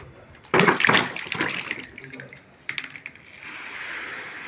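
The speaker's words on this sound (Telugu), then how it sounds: "వీటిని తీసుకొని వాటర్ వేసి బాగా మంచిగా కడుక్కోవాలి అన్నమాట" Raw green mangoes being washed by hand in water for mango pickle, with brief splashy sloshing bursts near the start, then quieter rubbing and a steady soft trickle of water toward the end.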